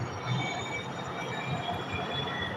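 A passing train gives a steady loud rumble with a sustained high wheel whine running through it, continuous for the whole stretch with no voices.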